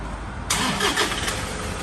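A Toyota Vigo pickup engine cranks and catches after a quiet moment, then settles into a steady, close idle.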